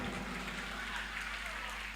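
Audience clapping at a Bihu function, a dense, steady wash of many hands close by that carries evenly through the short moment without a break.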